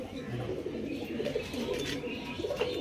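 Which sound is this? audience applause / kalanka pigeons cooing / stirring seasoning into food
kalanka pigeons cooing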